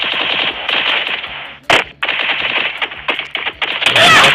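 Gunfire in the video game Free Fire: loud, close bursts of rapid automatic shots crackle in quick succession, with brief gaps and a sharp single blast partway through.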